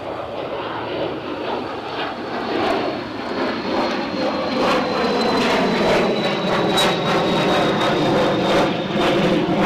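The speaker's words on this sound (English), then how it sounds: "Is that an RAF Phenom?" An RAF Phenom jet taxiing or taking off at Newcastle airport gives a steady, moderately loud roar with a rising whine, swelling slightly toward the end, with no voices.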